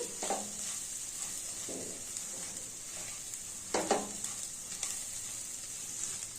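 Onions with chilli powder and salt fry gently in a pan, a soft steady sizzle broken by a few clear stirring scrapes of the spoon.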